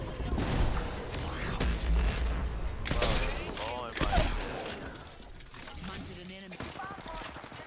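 A grenade blast in Apex Legends booms loudly amid chaotic gunfire and clattering mechanical game sounds, with players talking over the action.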